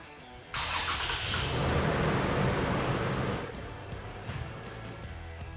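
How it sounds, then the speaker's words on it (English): A Toyota 4Runner with push-to-start is remote-started by a StartX remote starter. The engine catches abruptly and roars loudly for a few seconds before settling to a quieter, steady idle, heard up close. "Now we simply press lock 3 times on the factory remote and we remote start our vehicle."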